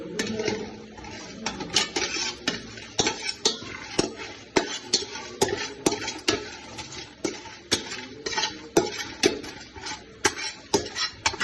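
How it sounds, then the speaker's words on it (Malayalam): A pan of food being stirred as it heats in a home kitchen where children are cooking, with rapid, regular clinks and scrapes of a spoon against the metal pan, close and fairly loud throughout. "നമുക്കൊന്ന് ഇളക്കി കൊടുക്കാട്ടോ. അപ്പൊ ഇത് ചൂടാവട്ടെ."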